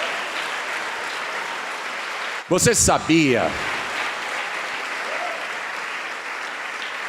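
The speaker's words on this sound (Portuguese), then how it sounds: "vamos aplaudir ao Senhor." Church congregation applauding during a Portuguese-language service, a continuous bed of clapping that runs underneath a short spoken phrase from a preacher.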